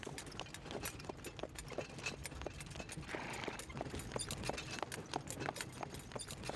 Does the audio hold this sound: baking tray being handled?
no